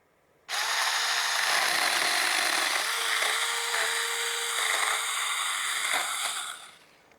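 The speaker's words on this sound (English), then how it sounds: "now I'm curious how it will do with an actual chainsaw that's meant to cut these things" Chainsaw cutting tree branches on a homestead: a sharp start into a loud, steady whine lasting about five seconds, pitch dipping slightly as it bites through wood, then winding down.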